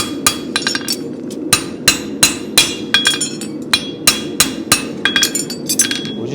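A hammer strikes a spavin horseshoe at the forge in a steady series of sharp, ringing blows, loud and close, with metallic clinks between hits and no talk.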